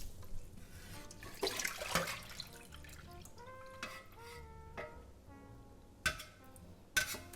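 Tap water splashing in a sink while fish is rinsed for a palm oil fish stew, heard as faint, intermittent gushes, drips and light clinks against a quiet background.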